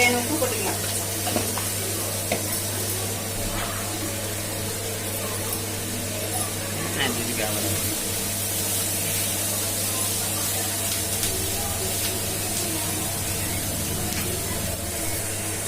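Okra (lady's finger) sautés in a pan for a Tamil vendaikai poriyal, giving a steady, even sizzle and hiss that carries on throughout with occasional stirring scrapes.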